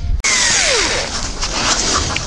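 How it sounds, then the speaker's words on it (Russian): A close, loud whirring tool works self-tapping screws out of the bumper of a Lada Niva Urban. A sharp click is followed by a whine that sweeps downward as the motor winds down, over steady background noise. "вот три саморезика открутил"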